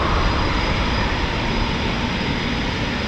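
A de Havilland Chipmunk propeller plane flies past, a loud, steady engine drone that fills the whole stretch without letup, with no talking over it.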